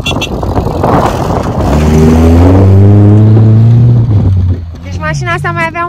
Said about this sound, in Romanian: O, o mașină!